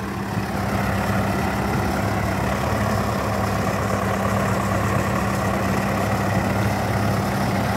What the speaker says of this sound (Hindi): तो ट्रैक्टर भी परले वाला काफ़ी गहर में चल रहा है